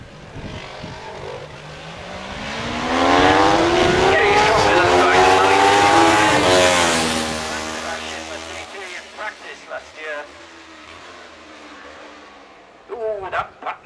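Classic superbikes racing at the Barry Sheene Road Races pass close by, engines rising to a loud roar and then dropping as the riders downshift. A commentator talks over the fading engine noise.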